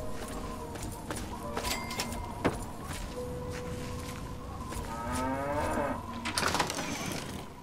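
Cattle moo in the open world of Fallout 3, a few drawn-out lowing calls at moderate distance over a steady ambient bed, with sharp clicks and a rising engine-like sweep near the end.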